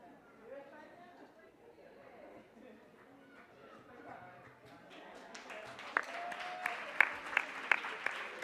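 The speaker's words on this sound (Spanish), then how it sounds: "Entonces, un gran aplauso a todos los nodos regionales." Applause from a symposium audience at the fifth Uniservitate global symposium starts faintly amid voices and chatter, then swells into louder clapping with sharp individual claps standing out near the end.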